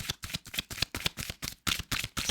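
Tarot cards shuffled in a steady series of quick riffling bursts, close and crisp, about a dozen rapid flicks with short gaps between them and no talk.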